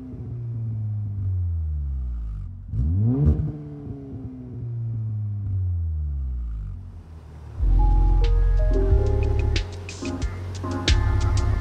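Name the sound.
2.0T AWD Skoda Superb accelerating on the road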